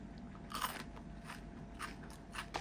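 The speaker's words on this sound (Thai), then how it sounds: "ข้างในก็จะเป็นเส้นหมูหยองกรอบแบบนี้นะคะ" Close, crisp bites and crunching chews of crunchy pork floss flavoured with fried kaffir lime leaves, chili, garlic and shallots, several sharp crackly bursts over a quiet background.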